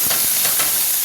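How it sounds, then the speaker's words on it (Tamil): Onions sauté in hot oil for a drumstick leaf stir-fry, a loud close hiss that holds steady through a short burst. "வெங்காயத்தை வதங்கலாம்."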